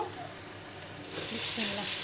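Rice poured into melted butter and onions bursts into a louder, hissing sizzle partway through, stirred close by after a quieter stretch of gentle frying.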